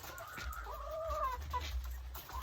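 Pet chickens on a small farm flock of about 120 birds cluck and murmur in a few drawn-out calls, close by and moderately loud over steady low background noise.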